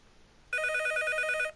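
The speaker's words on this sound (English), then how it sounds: "the phone started ringing again" A telephone bell rings in one loud, steady electronic trill lasting about a second, starting abruptly after a quiet moment and cutting off cleanly.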